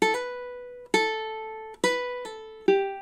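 A ukulele picks a short melody in time, four plucked notes or note pairs roughly a beat apart, each ringing bright and close before the next, with no voices.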